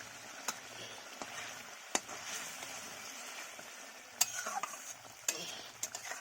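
A spoon stirs cashew paste into katla fish kalia frying in a pan, with a continuous soft sizzle and intermittent scraping clicks against the pan, close by.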